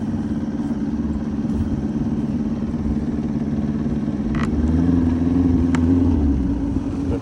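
A 1981 Johnson 90 horsepower outboard motor running in gear at a lake, its steady mid-pitched engine drone continuous and fairly loud throughout, with a deeper throb building toward the end and no talking.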